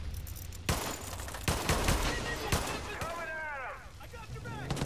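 Gunfire strafes a van in Far Cry 5 in rapid bursts of loud, close shots, with a creaking, whistling tail as the barrage eases. No one speaks.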